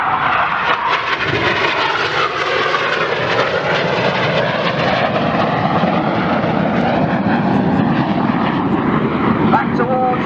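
An aerobatic display aircraft roars past at the Southport Airshow, a loud, sustained engine drone shifting in pitch as it flies by, with an announcer commentating over it.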